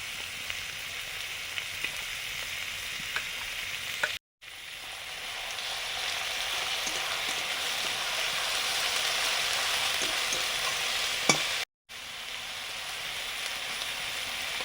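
Onion paste frying in a pan, a continuous close sizzle with soft crackles that holds steady, broken by two short cuts of silence.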